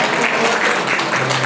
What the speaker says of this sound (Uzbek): Rahmat qarsak chalib qo'ygan barcha mehmonlarga